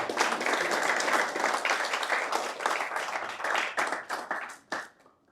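An audience at a St. Vincent Grammar School student leadership conference breaks into a burst of clapping that holds steady, then thins into scattered claps and fades out over a few seconds.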